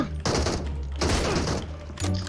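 Sniper rifle fired without a scope in PUBG Mobile: three loud, heavy broadband cracks about a second apart, each ringing out with a long, dense tail that fills the clip.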